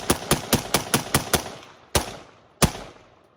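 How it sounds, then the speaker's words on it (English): An AR-15 rifle chambered in 5.56 fires a sharp string of loud shots, six in quick rhythm followed by two slower single shots, each a crisp crack with a short fading tail outdoors. "AR-15, 12 rounds. Off safety, firing in 3,"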